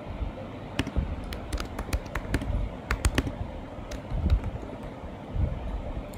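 Keys tapped in quick, irregular clusters on a computer keyboard while a quiz question is entered, close and moderately soft.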